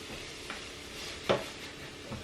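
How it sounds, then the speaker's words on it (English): Flour is stirred into a roux in a pan to thicken a cheese sauce for mac and cheese. Soft scraping strokes are heard under a faint sizzle, with one sharper clink near the middle. "We're making a roux here."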